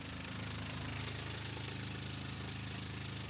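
A boat engine idles steadily with a low, rumbling hum and a rhythmic knock, heard continuously close by on shallow water off Bali in the Philippines, with no voices over it.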